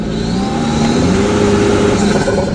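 A Toyota Tacoma Trailhunter engine revs hard on throttle, a loud, steady mechanical roar rising in pitch, heard up close from inside the truck.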